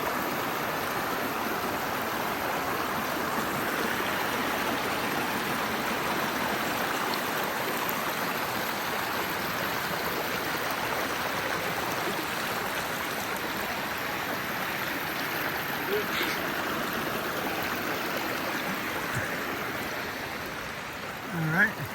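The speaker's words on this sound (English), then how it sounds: "there's Mill Creek going down that way" Mill Creek flows in a continuous broadband rush of water, steady and close throughout with no breaks, a faint footstep or knock near the end.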